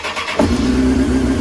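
A Honda CBR 954 RR motorcycle, just repaired after a fault, cranks briefly and then fires into a steady, loud idle, heard up close with no voices.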